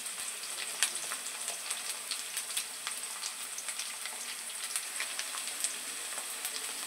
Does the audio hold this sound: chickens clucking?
no